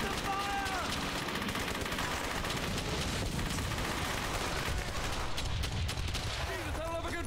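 Dense, continuous gunfire from the WWII shooter Brothers in Arms: Hell's Highway, with bursts of rifle and machine-gun fire crackling without pause and distant booms underneath, while squadmates shout in the background.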